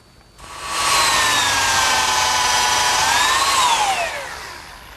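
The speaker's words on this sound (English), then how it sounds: "now I pre-drill and screw the lid to the lower rail" A power drill pre-drills and drives screws through a wooden umbrella stand lid into the lower rail, a steady whirring motor held for about three seconds that rises slightly in pitch before winding down, loud and close with no talk.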